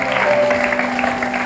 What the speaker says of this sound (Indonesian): tepuk tangan buat istrinya Christopher.